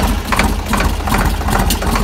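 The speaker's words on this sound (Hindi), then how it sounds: "ये मेरे अंकल का ट्रैक्टर है" A tractor engine idles steadily, a loud, close low rumble with a regular chugging pulse throughout.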